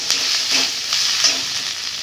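Ground spices, Kashmiri chilli, turmeric, coriander and cumin, frying in a pan, a close, bright steady sizzle with soft stirring scrapes and light ticks throughout, no voices.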